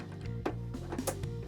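A plastic Mini Force Captain Commander police toy mechanism gives a couple of sharp clicks as it locks into place, close and fairly clear over a steady low background hum.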